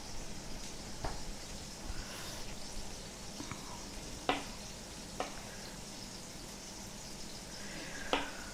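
Chicken sizzling steadily in a pan during a live cooking stream, a soft continuous crackle with a few sharp clinks of a utensil against the pan.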